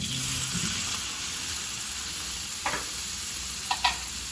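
Mushrooms being stirred into pork salpicao in a pan, with a steady sizzle of frying throughout and only a few sparse, faint scrapes of a utensil near the end.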